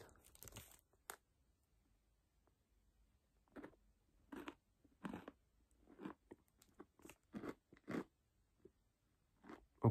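Crisp crunching bites and chewing of peanut butter filled pretzels come in irregular bursts with quiet gaps, close to the mic, no talking.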